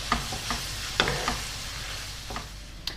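Spiced beef taco filling cooking gently over low heat in a pan, with a soft steady sizzle beneath several separate scraping stirs spaced irregularly, close and fairly quiet.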